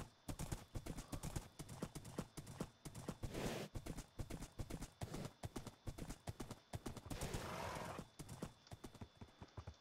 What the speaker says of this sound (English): Horsey! Horsey! Where art thou, oh horsey?